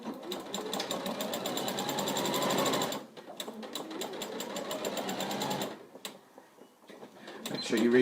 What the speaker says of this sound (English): I'm just going to stitch across that line there